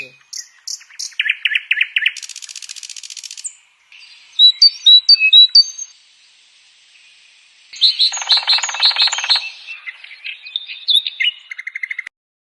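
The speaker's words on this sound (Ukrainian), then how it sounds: "спів птахів" Several birds chirp and trill in bursts, some near and some farther off, with brief quiet gaps between the calls; no talking.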